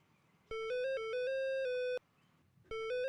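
An electronic phone ringtone plays a bright, stepped melodic pattern in one clean burst, pauses briefly, then starts again; the tones are close and clear over a quiet background, with no voices.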